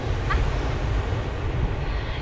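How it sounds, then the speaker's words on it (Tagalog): Steady sea wind from the northeast monsoon blowing at the shore, a constant broadband rush with low rumbling gusts filling the whole stretch, loud and close with no voices. "Feel na feel ang pagka ah, amihan ngayon, hindi masyadong maaraw."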